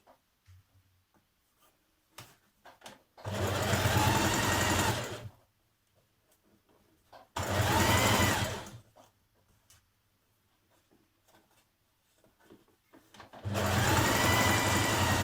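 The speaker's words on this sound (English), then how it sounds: "So we're going to stitch that inner seam first." A sewing machine stitches the inner leg seam of leggings in three steady whirring bursts of a couple of seconds each, separated by quiet pauses with small handling clicks.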